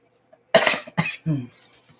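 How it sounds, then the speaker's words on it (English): Three quick, harsh allergy coughs in close succession, near and fairly loud, with brief silence around them. "And yes, I'm coughing."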